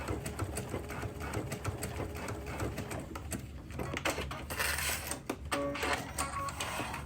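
A sewing machine fitted with a digital dual feed walking foot stitches steadily, its rapid mechanical needle tapping continuing close by throughout with a few small clicks and shifts in pace.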